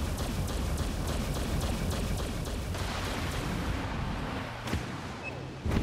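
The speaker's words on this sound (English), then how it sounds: "Broadside guns firing." A warship's broadside guns in a space combat video game fire in a dense, rumbling barrage, loud and steady, thinning toward the end with a few sharp separate blasts.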